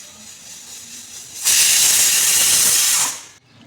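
A pressure cooker with potatoes inside lets off a loud, close burst of hissing steam that lasts about a second and a half and then cuts off, with no voices.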